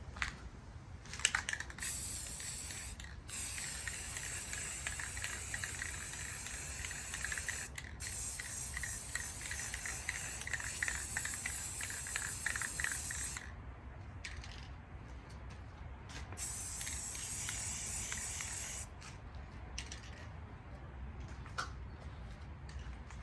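An aerosol can sprays paint onto a Fesley kit guitar body outdoors: long, steady hissing bursts broken by short pauses and a few faint clicks, close and fairly quiet.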